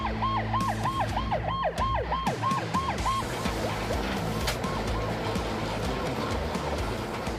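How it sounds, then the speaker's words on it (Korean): A loud airport fire truck siren wails in fast repeating cycles, then shifts to a slower rising-falling tone over a rumbling engine, close by. "사이렌을 울리며 출발하는 공항소방대"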